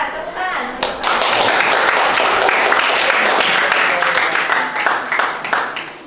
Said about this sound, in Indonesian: Oke, terima kasih Aljoni dan kawan-kawan. Tepuk tangan.